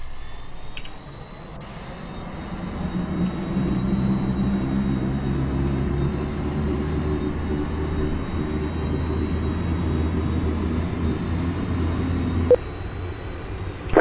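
Saab 340 turboprop engines spool up in the X-Plane 11 flight simulator, a steady loud droning hum that builds over the first few seconds and holds, with a brief click near the end and no talk.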